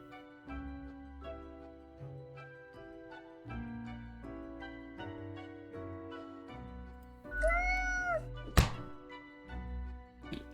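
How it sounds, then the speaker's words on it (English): A cartoon cat in the video game Death and Taxes lets out a clear meow and lands a sharp thump on a chew toy, heard over steady game music with a mournful toy cry. "the cat is whacking the chew toy aggressively with her paws"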